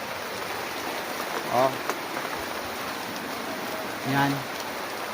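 Steady rain hisses all around in a grassy area under a large tree, a dense continuous wash of drops. Brief voice fragments rise twice above the rain.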